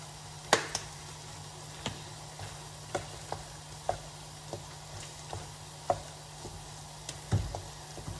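Three pounds of meat browning in a pot for chili, a soft steady sizzle broken by sharp clicks and taps from stirring at irregular intervals, close and fairly quiet with no talk.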